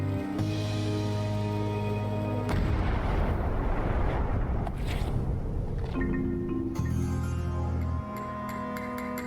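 Cannon fire in the video game Return to Monkey Island: a heavy, sustained booming blast rumbles for several seconds over steady music, with no talk.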